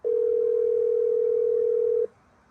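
A telephone call tone sounds as one steady, unbroken electronic note lasting about two seconds, loud and clean, then cuts off abruptly into quiet, with no voices.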